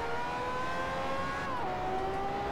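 A zombie car in an Upin and Ipin driving game speeds up, giving a steady, whining synthetic engine tone that holds its pitch and then drops a step partway through over a constant rushing bed.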